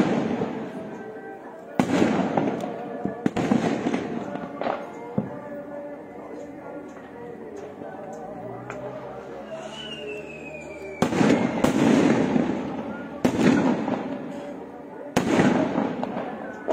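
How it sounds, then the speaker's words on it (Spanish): Skyrocket fireworks at a Day of the Dead festival welcoming the faithful departed in Huautla, Mexico, with several sharp loud bangs and crackling bursts, some whistling rising launches and a lingering crowd and ambient din between the blasts. "Ya están los cohetes recibiendo allá los fieles difuntos de nueva cuenta."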